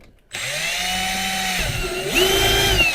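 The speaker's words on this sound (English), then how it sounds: "So I am going to drill a hole up here" A power drill bores a hole into a car body panel for a rivet, a close whining motor tone that holds steady, dips briefly, then rises in pitch as the bit works through the metal.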